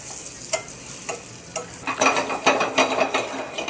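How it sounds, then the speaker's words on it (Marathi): Four boiled eggs fry with turmeric in a kadhai over a high flame, giving a steady sizzle broken by several sharp scraping stirs and clinks of the spoon against the pan, close and clear with no talking. "4 अंडे उकडलेले त्याच्यामध्ये आपल्याला आहे ना 1-2 मिनटं फ्राय करून घ्यायचे आहेत मोठ्या आचेवरच बरं का."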